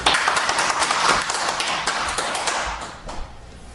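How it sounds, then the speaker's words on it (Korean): Audience applause at a Monday lecture hall talk, a short burst of many hands clapping nearby that thins out and fades over a few seconds. "이제 뜨거운 격려 박수 부탁드립니다"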